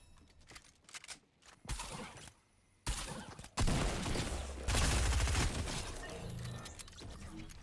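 Shotgun fire in the Fortnite video game comes in loud, dense bursts of shots, heard alone without talk.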